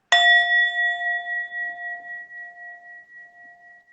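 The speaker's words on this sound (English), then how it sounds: "I'm going to play the bell" A single bell struck once for a mindfulness exercise rings out clearly with a sharp onset, then a long pure tone that slowly fades over several seconds in otherwise silence.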